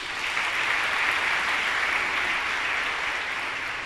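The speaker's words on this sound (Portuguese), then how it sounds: "Aplauda isso." A church congregation applauds during a healing Mass homily, a steady, dense wash of clapping held at even loudness throughout with no voices over it.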